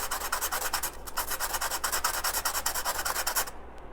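Sandpaper rubbed hard against styrofoam set on a hard surface, a steady rapid back-and-forth scratchy rasping that is loud and close, stopping abruptly near the end.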